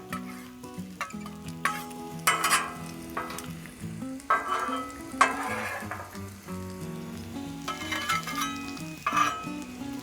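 Ham, bacon and onions sizzle on a Blackstone griddle while a spatula scrapes and stirs them, a steady close frying hiss broken by sharp metal scrapes, with no talk over it.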